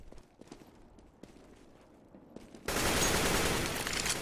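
Counter-Strike: Global Offensive gunfire: a few faint clicks and scattered shots give way to a sudden loud, dense burst of sustained automatic fire that runs to the end.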